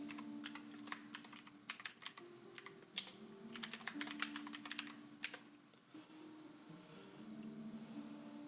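Quiet clicking of fingers typing on a computer keyboard in short irregular bursts and pauses, close up over a faint low hum.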